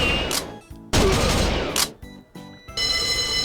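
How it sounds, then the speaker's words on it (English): Gunfire from an old Sega arcade shooting game: several loud, close bursts of rapid shots separated by short pauses, with no talking. "You can shoot pretty much anything, and it reacts"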